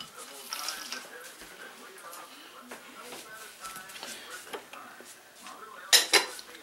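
Mexican fiesta cake batter with chopped walnuts stirred by hand in a bowl, a spoon scraping and clinking against the sides in uneven strokes, with a couple of sharper knocks near the end and a voice talking.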